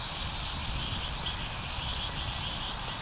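An FQ777 958 mini quadcopter drone's motors throttle up into a steady, high-pitched whining buzz, continuous and fairly loud close by, with no talk over it.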